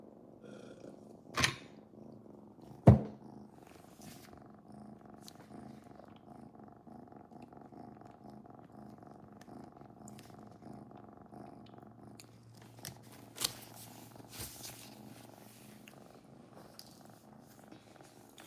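A pet cat with only two legs purrs steadily and close by, a soft continuous rumble with a couple of brief sharp knocks near the start.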